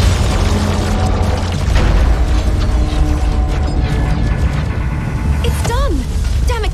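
Tower destruction in the Agents of Mayhem video game: a dense, loud rumbling wash of mechanical grinding and booming debris fills the whole stretch, with a rising, bending whine near the end.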